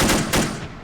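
A machine gunner firing in the WWII strategy game Assault Squad 2, two quick loud rattling bursts close together, cutting off and fading within a second.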